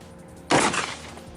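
A single loud, close blast from a 12-gauge VR80 shotgun firing a heavy slug, with a short decaying tail.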